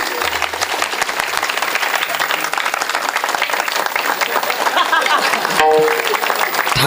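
Sustained, dense clapping from an audience at a comedy kirtan, loud and continuous throughout with crowd noise mixed in.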